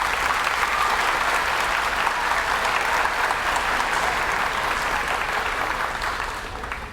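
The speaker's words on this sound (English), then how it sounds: "Let's give her an applause" Sustained audience applause fills a middle school eighth grade advancement ceremony, a dense steady wash of many hands clapping that holds loud throughout before tapering slightly at the end.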